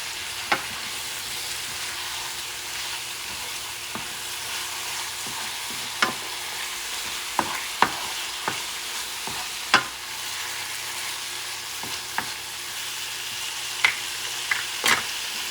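Smoked paprika frying in a pan, a steady close sizzle with scattered sharp scrapes and clicks of a utensil stirring.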